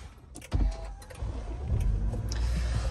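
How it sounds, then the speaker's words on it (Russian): A 2012 Lexus RX 270 starts up with a short cranking burst, then settles into a steady, close idle hum. No one speaks. "Заводим автомобиль. Автомобиль заводится идеально."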